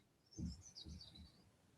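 A small bird chirps with a few quick high tweets, faint and somewhat distant, over low thumping background noise.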